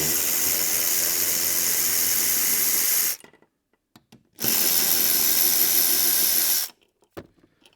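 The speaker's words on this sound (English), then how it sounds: "I used a ratchet just to break them loose, and then an electric ratchet to spin them out." An electric ratchet spins 14 mm seat bolts out of a 5th generation Toyota 4Runner, two loud continuous whirring bursts about three seconds each, separated by a short pause and followed by small clicks.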